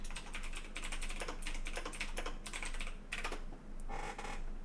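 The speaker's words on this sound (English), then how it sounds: "Now we know the sound of one hand typing." Fast typing on a computer keyboard up close, bursts of rapid key clicks with short pauses between them and no talking.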